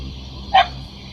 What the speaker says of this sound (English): Yeah, dogs go woof woof.